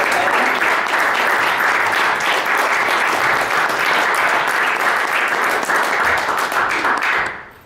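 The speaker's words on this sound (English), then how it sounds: "you're allowed to applaud now" Loud, close audience applause for school board trustee candidates at a forum, sustained steady clapping for about seven seconds before tapering off at the end.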